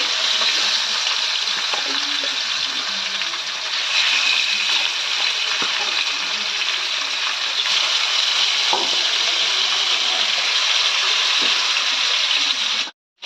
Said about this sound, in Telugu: ఇప్పుడు మనకు ఆయిల్ హీట్ అయిపోయింది. ఈ చేప ముక్కల్ని మనం ఆయిల్లోకి యాడ్ చేసుకోవాలి.